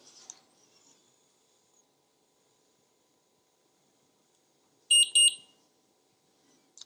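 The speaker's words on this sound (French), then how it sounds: "ça va faire un petit bip pour dire qu'elle était bien remplie" Two short, high electronic beeps in quick succession ring out sharply from an Omnipod 5 insulin pump after filling, surrounded by near silence and faint handling noise.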